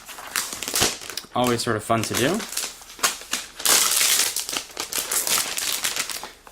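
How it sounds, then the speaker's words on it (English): Protective plastic film is peeled off a new 11.6-inch MacBook Air, giving close crinkling and crackling with a few sharp tearing bursts while someone talks over it. "Let's go ahead and peel off the plastic."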